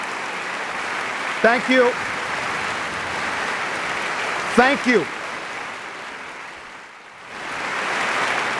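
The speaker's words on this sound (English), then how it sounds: "Don't stop your applause now." An audience claps steadily at a State of the Commonwealth address, a dense wash of applause that briefly dips and swells again, while someone speaks twice over it.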